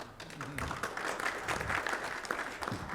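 An audience claps at an anti-tobacco cancer-awareness event, a lively, uneven patter of many hands that stays fairly close and continues steadily, with faint voices mixed underneath.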